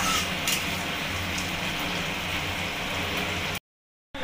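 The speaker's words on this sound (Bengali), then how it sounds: "পেঁয়াজটা আমি লাল লাল করে ভেজে নেব।" Onions sizzling in hot oil, a steady, dense crackle that holds evenly and then cuts out abruptly near the end, with no voices.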